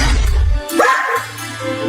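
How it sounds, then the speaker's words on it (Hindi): Dogs bark close and loud in a cartoon scene, a few sharp barks followed by a whimpering yip and a lower bark, with no talk over them. "बाहर बहुत सारे कुत्ते घूम रहे हैं।"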